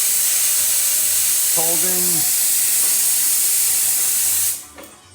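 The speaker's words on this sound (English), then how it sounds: "Nice strong steam. We'll purge it and then give it a good hit." Steam wand on a Quick Mill espresso machine purging after a full tune-up, a strong, steady, close hiss lasting about four seconds before cutting off abruptly, with a brief spoken word partway through.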